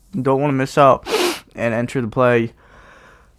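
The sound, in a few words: sneeze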